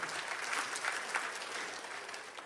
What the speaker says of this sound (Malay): Kita beri tepukan dua-dua